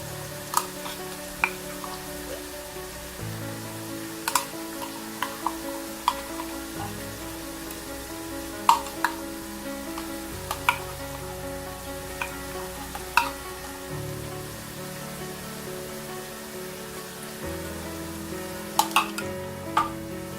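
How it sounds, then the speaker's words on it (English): A spoon stirs chicken stew with tinned tomatoes in a pot over a steady low sizzle, with scattered clinks of utensil against the pot at irregular intervals and no voices. "Now you stir."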